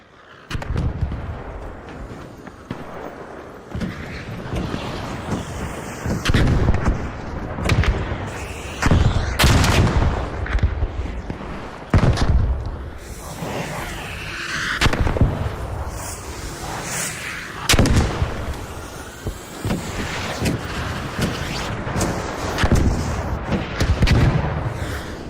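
Artillery fire from a bombardier in a video game, repeated heavy booms and sharp gunshot cracks spread over the stretch, loud and close with a rumbling battlefield underneath.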